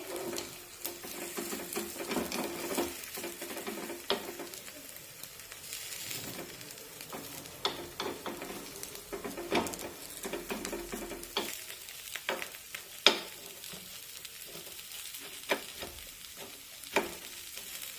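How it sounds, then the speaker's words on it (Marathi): Millet flour appe frying in oil and being flipped, giving a steady close sizzle throughout, broken by occasional light metallic clicks and taps from the utensil turning them. "वरून थोडंसं तेल सोडूया आणि पलटून घेऊया"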